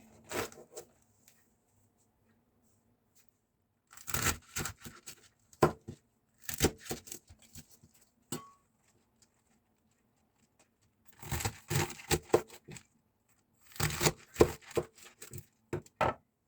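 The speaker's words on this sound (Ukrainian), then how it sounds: "Беремо пекінську капусту і нарізаємо такими здоровими кубиками." Chinese cabbage is chopped into big cubes on a board in bursts of quick, crisp knife strokes, several rapid runs separated by quiet pauses, close by.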